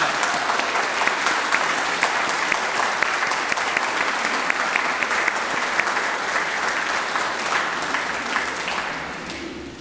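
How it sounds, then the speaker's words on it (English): A large audience gives an employee-of-the-year honoree at a celebration a loud, sustained round of applause lasting the full stretch and easing slightly toward the end, dense clapping with no voices over it. "Let's give Jenny a round of applause."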